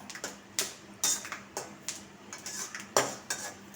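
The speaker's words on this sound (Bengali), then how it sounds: "এখন বাদাম দিলাম বাদামটা ভাজা করে নিই" Peanuts being fried and stirred in a pan for chira pulao, rhythmic sharp clinks and scrapes of a spatula against metal, close and fairly quiet, with no talking.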